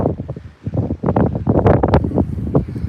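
Strong outdoor wind buffets the microphone in loud, uneven gusts, with heavy rumbling bursts that rise and fall and a brief lull near the start.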